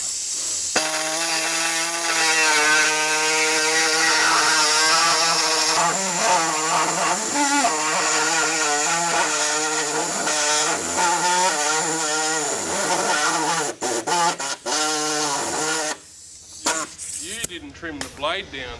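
A handheld power saw cuts a hole in a Toyota Cressida, its loud buzzing whine rising and falling as the blade bites, then breaking into choppy bursts before stopping.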